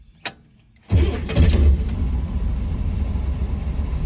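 A Vauxhall Corsa engine cranks and catches with a loud burst, then settles into a steady, rumbling idle close to the listener, after a brief click beforehand.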